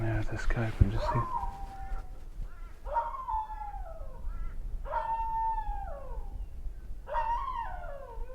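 A wild dog howls in the distance, three drawn-out, falling howls evenly spaced a couple of seconds apart, following a short burst of rough, close noise at the start.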